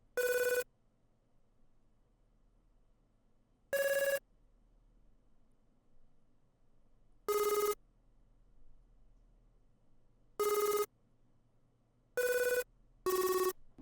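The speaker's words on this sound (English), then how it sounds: "we're going to add the phone call sound effect." A telephone bell sound effect in an FL Studio beat rings in six short, loud bursts spaced a few seconds apart, the last two close together, with a faint low hum between rings.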